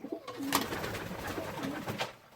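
Pigeons in a loft give soft, low cooing calls, close and moderately loud, in a short burst of bubbling coos.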